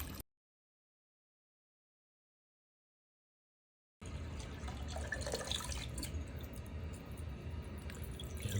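Water runs steadily from a Honeywell HE240 humidifier supply line during a timed flow test, a continuous close splashing rush that starts abruptly after a stretch of silence.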